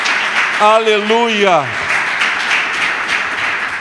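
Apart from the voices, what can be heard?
church congregation applauding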